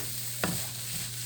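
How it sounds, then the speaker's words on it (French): A utensil stirs food in a pan for a Chinese buffet-themed dish, making one short scrape against a faint steady hum, with no voices. "On brasse encore."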